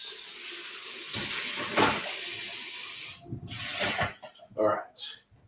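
Something rinsed under a running kitchen tap, with a hissing, spraying water stream that starts and stops in several bursts; a voice speaks briefly between the flows.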